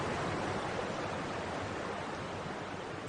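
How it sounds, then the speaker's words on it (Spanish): Steady, broadband rush of flowing river water, continuous and fairly loud throughout, with no voices over it. "empezó a escuchar un murmullo como de agua que se hacía más fuerte"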